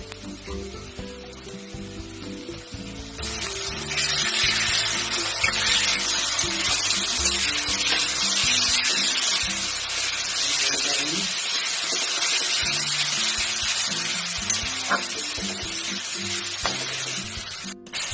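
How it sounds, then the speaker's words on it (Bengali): Water poured into a pan of frying ground spice paste with green chilies for an egg and new potato curry bursts into a loud, steady sizzle after a few quieter seconds, hissing continuously until the end. "সামান্য একটু মশলা ধোয়া জল দিয়ে দিলাম, যাতে মশলাটা পুড়ে না যায়"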